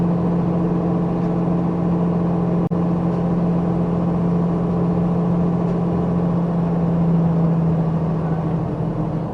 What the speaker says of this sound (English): I'll bet you it shoots itself back down into 9th gear and revs it all up again